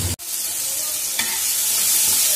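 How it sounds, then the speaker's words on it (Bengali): Tomatoes fry in a pan for a katla fish curry with potatoes, a steady close sizzle broken by a sharp scrape of stirring at the start and a softer one midway, with no talking. "মিনিট 2 আমাদের এভাবে একটু নেড়ে চেড়ে নিতে হবে, আস্তে আস্তে টমেটোটা নরম হয়ে যাবে।"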